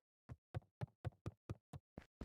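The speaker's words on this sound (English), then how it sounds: "Someone's knocking on the door?" Knocking on a door in the video game Beacon Pines: eight evenly spaced, solid knocks in a steady rhythm, close and clear with nothing else around them.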